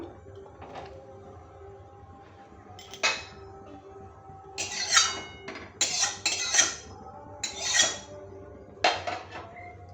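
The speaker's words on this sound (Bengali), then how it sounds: "কড়াই বসিয়ে দিলাম" A wok is set on a kitchen stove, followed by a series of sharp metallic clinks and clatters of pots and utensils, sparse at first and then clustered, close and fairly quiet with no talking.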